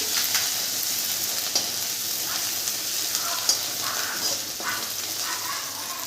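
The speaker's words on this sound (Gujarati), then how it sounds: "આદું મરચાંની પેસ્ટ બનાવી છે એ નાખીશું આપણે" A paste of four green chillies and a piece of ginger sautés in a pan, giving a steady, moderately loud sizzle with occasional faint clinks of stirring.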